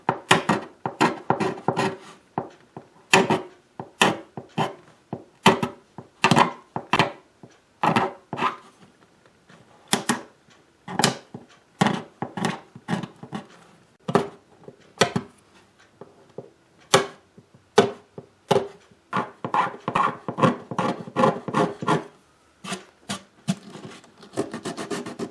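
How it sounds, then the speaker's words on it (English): A scraper working lacquer along the bridge area of a dreadnought guitar soundboard, giving a long series of short, sharp rasping strokes in an uneven rhythm, close and clear, with brief pauses between bursts and no talking. "So I am ready to start scraping"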